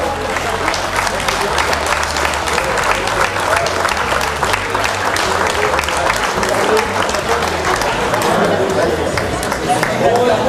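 An outdoor podium ceremony crowd at a car rally claps loudly and continuously, with scattered voices and chatter mixed into the sustained applause.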